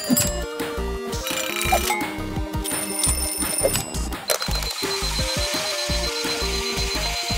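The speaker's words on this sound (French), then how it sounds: "voyons voir s'il est mieux que tous les autres réveils matins" A toy car alarm clock rings nonstop, loud rapid bell-like trills and tones in shifting bursts with no pauses.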